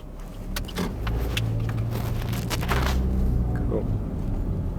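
A car drives steadily along a road during a driving test, its engine and road noise forming a low, continuous hum inside the cabin, with a few soft clicks and rustles and faint voices talking over it.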